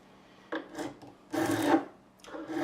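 A metal file rasps across the frets of a Korean-made BC Rich Mockingbird guitar during fret levelling, in three separate rubbing strokes with short pauses between them, close and fairly quiet.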